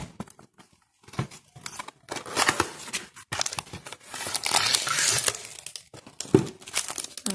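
Plastic packaging on a diamond painting kit is torn and crinkled open in close, irregular bursts of rustling and ripping, with brief quiet pauses between handling.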